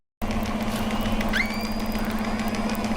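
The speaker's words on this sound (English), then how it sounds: "the rapidly melting and shifting ice generates these uncanny sounds" Melting and shifting Arctic ice recorded by an ocean sensor gives a steady low hum, with a few eerie gliding, creaking tones rising midway, fairly faint throughout.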